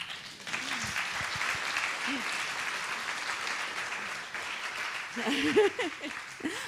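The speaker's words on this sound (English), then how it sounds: "I didn't want to stop that applause." Audience applause fills a brewery venue at a Raising the Bar Adelaide talk, steady dense clapping throughout with a few voices rising briefly near the end.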